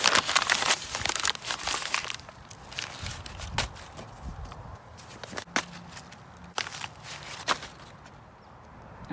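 A paper bag is crumpled by hand while it is being set as a base layer in a grow bag for transplanting kale; close, crackly rustles come in irregular bursts, loud at first and then trailing off.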